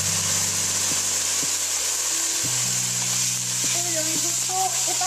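Dry white wine poured over toasting risotto rice gives a loud, steady close hiss of sizzling, with a low hum and tonal background sounds underneath.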